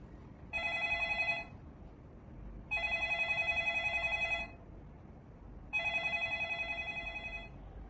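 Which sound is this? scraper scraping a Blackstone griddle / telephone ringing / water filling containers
telephone ringing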